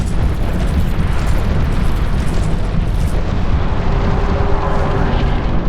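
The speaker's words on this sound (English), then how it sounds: "Light that on fire." A loud, steady roaring whoosh of fire igniting in Dark Souls 2, a dense rumbling burst that holds without a break and with no talk over it.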